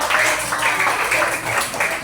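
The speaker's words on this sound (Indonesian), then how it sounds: "Tepuk tangan buat temannya." Schoolchildren in a classroom applaud a classmate, a steady burst of many hands clapping at close range that runs continuously for about two seconds.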